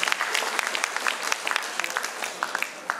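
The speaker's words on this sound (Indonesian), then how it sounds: "Tepuk tangan yang meriah untuk beliau" Audience applause at an East Java cooperatives event honoring the provincial head of the Cooperatives and SMEs Office, a steady patter of many hands with sharper individual claps scattered throughout.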